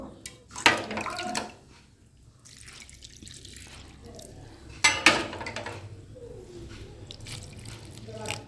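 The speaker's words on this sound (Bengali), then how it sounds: "দেখো জলটা আমি দিয়ে দিলাম" Water splashes and gurgles into a metal pressure cooker pot in two short bursts, separated by quieter clinks and faint drips.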